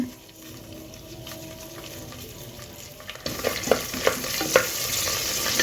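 Onions and green chillies fry with masala in a pan for vegetable biryani, a soft hiss that grows louder partway through, with sharp crackles and a few spoon scrapes close by.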